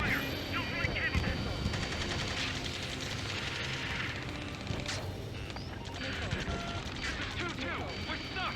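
Rapid gunfire in the Ace Combat 7 video game, dense continuous bursts with heavy booming impacts over a busy rumbling battle backdrop, a radio voice speaking briefly.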